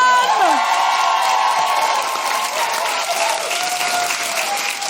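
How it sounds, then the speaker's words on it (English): Audience at a live feminist comedy podcast recording applauds and cheers a comedian as she is welcomed on stage, a loud, steady wave of clapping with a few whoops that eases slightly toward the end. "Give it up for the wonderful Susan Calman!"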